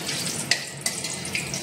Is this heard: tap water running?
yes